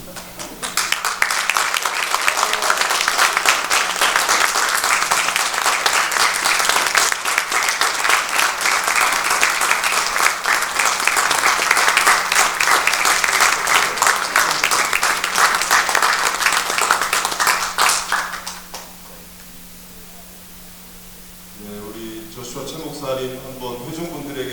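A church congregation at an ordination and installation service applauds in sustained, loud clapping for about eighteen seconds, which then fades and gives way to someone speaking.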